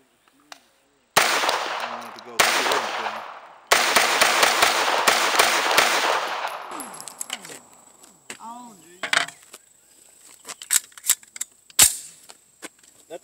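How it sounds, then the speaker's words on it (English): A Sig Sauer MPX tactical 9mm carbine pistol fired in sharp, loud reports, first three spaced shots, then a fast run of rounds with ringing echo, and a few later isolated cracks. "Right now I'm not shooting for accuracy. I'm just shooting for this recording."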